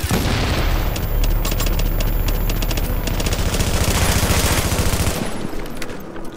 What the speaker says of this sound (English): I'm getting really sick of this machine gunner over here.